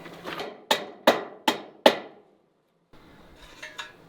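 A hammer drives a nail into wooden window trim in a shop: a few light taps, then four sharp, evenly spaced strikes up close, followed by a pause and faint handling noise.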